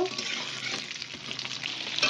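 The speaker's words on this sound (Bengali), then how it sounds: "ফোড়নটা ভাজা ভাজা হয়ে গেলে দিয়ে দেবো আলুটা।" Potato pieces with five-spice seeds fry in a little oil, giving a steady soft sizzle with light hissing throughout, brief and close.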